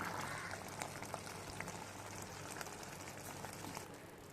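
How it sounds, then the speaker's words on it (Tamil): Kerala-style beef sukka simmers in a pan with spiced water cooking down, giving a steady, soft bubbling and spitting hiss with scattered small pops, faint and close, with no talking. "இந்த டிஷ்ஷை இப்படி நல்லா கொதிக்க விடுங்க"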